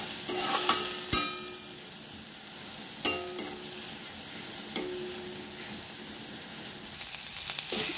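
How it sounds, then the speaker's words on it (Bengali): Turmeric, cumin and coriander fry in a pan under a soft, steady sizzle, punctuated by a few sharp scrapes and clinks of a spatula stirring, fairly quiet and close. "তারপর পরিমাণ মতো হলুদ জিরা ধনা নিয়ে ভালো করে নাড়াচাড়া করে দেবো।"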